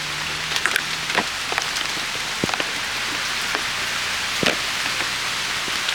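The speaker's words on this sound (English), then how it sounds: "it is raining so hard right now" Heavy rain pours steadily outdoors in Hawaii, a dense, loud hiss of drops on surfaces with scattered sharper splashes throughout, no voices.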